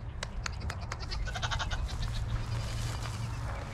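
Goat does bleating in a pen during electric fence training, several overlapping calls in quick bursts over a steady farmyard background, fairly close.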